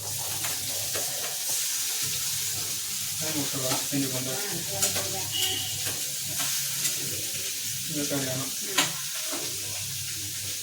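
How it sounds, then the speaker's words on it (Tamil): Onion, tomato, ginger, garlic, fennel, cumin and pepper sizzle and fry in a pan for a Sunday mutton kuzhambu, with steady continuous sizzling and occasional stirring scrapes, moderately close and alone. "சோம்பு சீரகம் மிளகு இஞ்சி பூண்டு தக்காளி வெங்காயம் எல்லாத்தையும் போட்டு வதக்கி ஆகுது"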